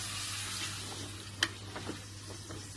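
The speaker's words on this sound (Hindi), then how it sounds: "अब जो कीमा भुन चुका है उसके अंदर हम थोड़ा पानी ऐड कर रहे हैं।" Water hisses and sizzles as it hits browned minced keema in a hot pan, a steady frying bed with a few soft clinks and splashes near the close.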